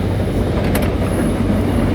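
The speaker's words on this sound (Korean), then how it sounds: "열차가 지나가고 있습니다. 기차 구경 좀 하십시오. 두 대가 쌍방으로 지나가고 있습니다." Two trains passing each other in opposite directions, a loud continuous rumble of railcars with rhythmic wheel clatter and a brief metallic squeal partway through.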